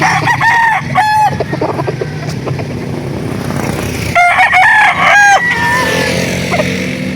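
Roosters crowing repeatedly at a chicken market in Laguna, several loud nearby calls overlapping with clucking and a busy outdoor background.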